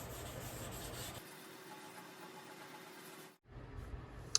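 Wet sanding the paint on a motorcycle gas tank: a steady, soft rubbing hiss of abrasive paper over the surface, continuous and close, pausing briefly near the end before resuming.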